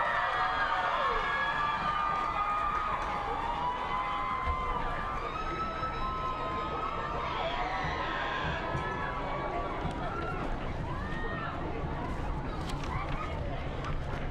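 Dense crowd noise fills a high school football stadium as the 2017 homecoming king and queen are named, with steady cheering, shouts and applause throughout, loud and continuous without pause.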